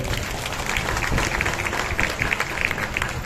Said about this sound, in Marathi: सगळ्यांनी परशुरामजी वाडेकर आणि सुनीताताई वाडेकरांसाठी जोरात टाळ्या वाजवाव्या